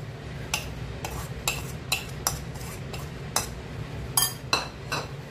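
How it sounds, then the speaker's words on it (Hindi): Sprouts and spices being mixed in a large bowl, with a spoon clinking against the bowl in a series of sharp, irregular taps over a steady low background hum. "फ्रेंड्स, बाउल लेते हैं बड़ा, और इन सब चीजों को करते हैं मिक्स।"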